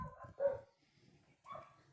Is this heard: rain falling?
no